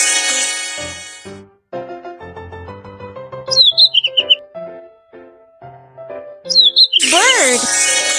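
A cartoon bird gives two brief, bright chirping flurries a few seconds apart, set against steady background music in a children's animated show.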